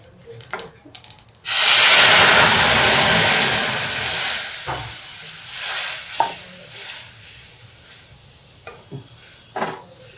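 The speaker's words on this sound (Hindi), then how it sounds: "दाल में भी तड़का लग गया।" Loud hissing sizzle bursts out as an Indian tempering with asafoetida hits hot oil for dal, roaring strongly, then gradually dying down, followed by a few clinks and stirring knocks.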